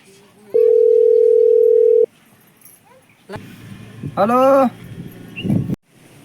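A single steady electronic telephone ringing tone sounds for about one and a half seconds during an outgoing call. It is followed by quieter voices and whimpering, yelping dog-like sounds.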